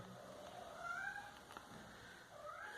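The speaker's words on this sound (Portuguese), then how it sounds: "Kelly, o gato, Kelly." A cat meows a couple of drawn-out times, faint and distant in a quiet room with low background noise.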